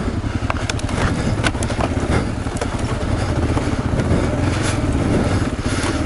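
Dual-sport motorcycle, such as a KLR 650, CRF 250L or KLX250, labouring up a rocky spring trail in first gear, its engine loud and close with a steady throbbing drone throughout.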